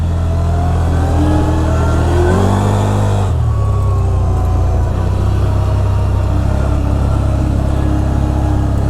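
A CFMOTO ZFORCE 950 HO Sport side-by-side driving in high gear, with a loud, steady engine drone and a brief rise in pitch before it settles into a constant, close roar.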